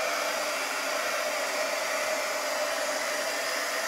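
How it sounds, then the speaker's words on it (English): A hair dryer blows steadily and loudly up close, drying freshly painted farmhouse decor to a matte finish, with a constant even whoosh and no other sounds. "So I'm going to dry this up, and it's going to dry a matte finish."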